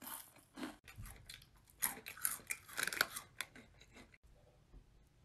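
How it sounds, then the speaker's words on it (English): Loud, close chewing and crunching comes in rapid irregular bursts of crisp bites and snaps, with brief quiet gaps, no talk over it. "Who the fuck is chewing so loud?"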